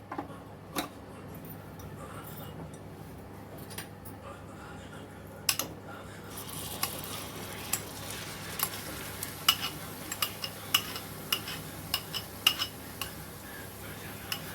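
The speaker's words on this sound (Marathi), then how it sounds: "आवळ्याचा गर जो आपण वाटून घेतलेला आहे तो आपल्याला याच्यात परतायचा आहे" Ground amla pulp is sautéed in a pan while making amla chyawanprash, with a utensil stirring and scraping. Soft at first, it turns to regular close taps and scrapes over a faint background hum.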